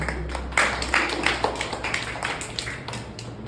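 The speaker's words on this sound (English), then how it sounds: "With a big thundering applause." Audience applause at a Toastmasters public speaking meeting in Vellore: a modest room of people clapping in uneven, overlapping bursts, fairly close and steady for a few seconds with no talk.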